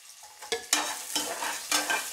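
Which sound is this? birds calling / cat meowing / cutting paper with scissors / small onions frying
small onions frying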